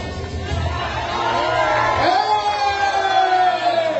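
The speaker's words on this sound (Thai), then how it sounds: "เชียร์ดังมากคู่นี้บอกเลยครับ" A loud crowd cheers at an amateur boxing match, with yells and whoops rising over a continuous hubbub of voices close by.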